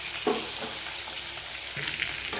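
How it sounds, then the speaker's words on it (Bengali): Papaya, potato and pumpkin sauté in a pan with a steady, close frying sizzle, broken by a few scraping stirs and small clinks. "যেরকম পেঁপে, আলু, কুমড়ো এগুলো দিয়ে আগে কষে নেবে"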